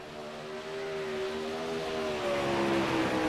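Garrett Boyd's number 21 dirt track race car runs laps at Knoxville during a PRO Sidewinder Dirt Series event, its engine a steady, fairly loud drone whose pitch drifts gently down and back up, with no voices over it.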